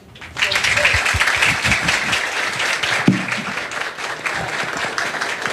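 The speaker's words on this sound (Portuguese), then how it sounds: "Uma salva de palmas, né?" An audience at a church book launch event breaks into applause, which swells quickly and holds steady, with a voice faintly heard over it.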